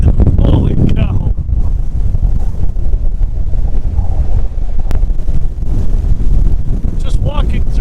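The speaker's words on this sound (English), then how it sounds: "it's still pretty windy out here" Strong wind from the aftermath of Hurricane Fiona in North Sydney buffets the microphone in heavy, low rumbling gusts, with brief faint voices at the start and end.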